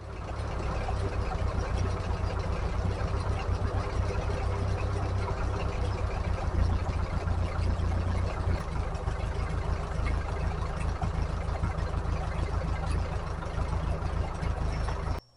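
The engine of a 1944 Ford 2N tractor idles steadily and close by, a continuous low rumble with an even level and no speech throughout.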